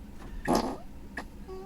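A Tesla's fart-mode sound effect plays through the car's speakers inside the cabin: one loud, buzzy burst followed by a shorter, quieter one.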